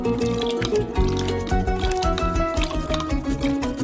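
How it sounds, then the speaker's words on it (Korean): Vinegar, seven tablespoons of it, is poured into milk warmed to about 50 degrees, giving close, dripping and splashing liquid sounds in an uneven rhythm with some clattering around them. "식초 7큰술을 넣어요."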